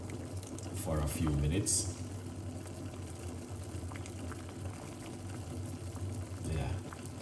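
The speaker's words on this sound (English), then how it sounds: "we're making the lemon boil" Lemon simmering in a pot of water for parsley and lemon tea, a soft steady bubbling hiss near the mic with a few louder clinks and a person speaking briefly.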